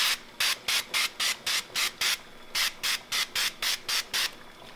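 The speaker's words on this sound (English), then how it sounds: "So I spray a little non-stick canola oil." Two quick runs of short hissing bursts of non-stick canola cooking spray into a pan, about seven each in a steady rhythm, close and fairly loud, with a brief pause between the runs.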